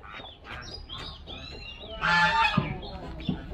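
Several ducks honk and call in a noisy cluster, with a louder burst of squawking in the second half and a couple of sharp knocks.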